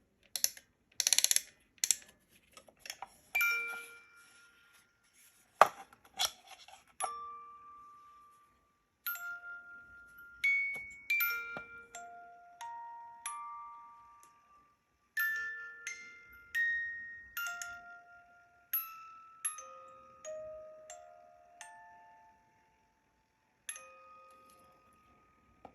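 A Bell Original miniature music box plays a slow plucked-comb tune of bright, ringing single notes with small pauses, each tone decaying. No voices; faint winding clicks come at the start.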